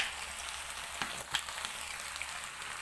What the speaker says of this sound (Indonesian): Selanjutnya aduk dan masak hingga sawinya layu.